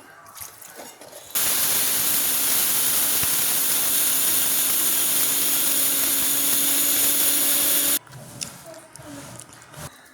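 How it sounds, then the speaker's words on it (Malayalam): A mixer grinder blends roasted spices for mango pickle, its loud, steady whirring motor starting abruptly after a quiet moment and cutting off sharply several seconds later, leaving soft kitchen sounds. "വറുത്ത് വെച്ചതൊക്കെ മിക്സിയിലിട്ട് അടിച്ചെടുക്കാം."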